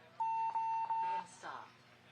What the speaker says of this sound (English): He turns and hits the buzzer.